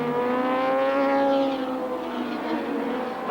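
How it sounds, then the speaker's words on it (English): Clubman racing cars contesting the National Clubman Series scream past at Lakeside circuit in 1983, engines wailing loudly together with pitches bending as they pass, a continuous close roar with no talk. "A whole stream of clubman racing cars, which today are also contesting the National Clubman Series, stream behind"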